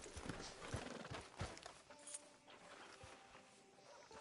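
Horse hooves clip-clop in a Western-style video game, a steady run of hoofbeats through the opening seconds that then fades to quieter footfalls under a faint ambient hum.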